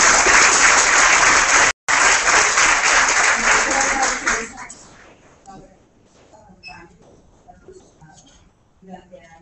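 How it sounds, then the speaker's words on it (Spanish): Loud, dense applause from a crowd for about four and a half seconds, then cutting off abruptly into a quieter room with scattered sounds. "Damos un aplauso"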